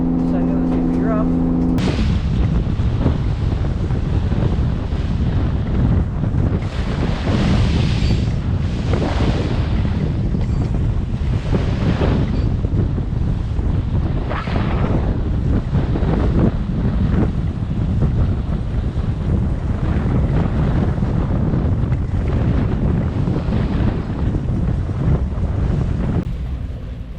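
Rough water splashing against a boat and its isinglass windows, heavy continuous roaring wash and wind buffeting the microphone, loud and close, with surges of spray throughout and a sudden onset after a short quieter start.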